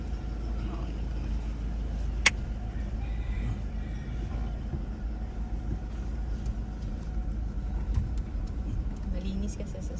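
A 2023 Toyota Hilux G automatic pickup drives on a road test, its steady low engine and road rumble filling the cabin while people talk over it, with one brief sharp click partway through.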